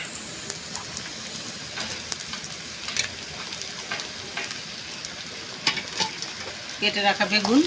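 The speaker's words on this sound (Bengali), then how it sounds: "বেগুনটা দিয়ে একটু নাড়াচাড়া করে দেব ঝিঙে" Chopped eggplant fries in a pan while being stirred, with a constant close sizzle and repeated scrapes and clinks of the spatula that get louder and busier toward the end.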